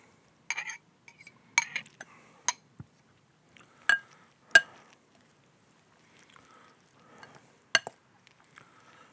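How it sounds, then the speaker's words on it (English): Nutty rice salad being mixed in a bowl, a handful of sharp utensil clinks and scrapes against the dish in scattered bursts, close and fairly quiet with pauses between. "I'm going to mix it in a bit at a time if I can."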